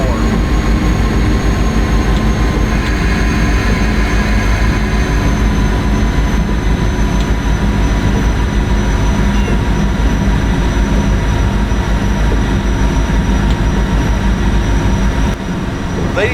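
PRR V2 Santa Fe Express train running fast in a video game, a loud sustained roar of engine and rails with a steady hum that barely changes, a voice talking faintly underneath.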